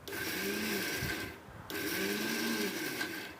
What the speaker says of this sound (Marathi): आता मिक्सरवर पूर्ण आपल्याला बारीक असं वाटून घ्यायचं आहे